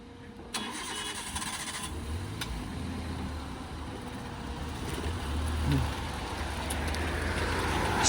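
A car in a driving lesson moves off slowly in first gear on half clutch, a steady low engine hum with a lifting rumble that holds near and fairly loud throughout.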